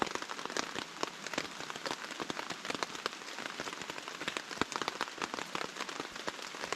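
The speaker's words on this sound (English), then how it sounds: "Listen to the rain" Steady rain patters densely on leaves and surfaces in a forest in Pisgah National Forest, a constant fine crackle of drops with occasional louder hits, no voices.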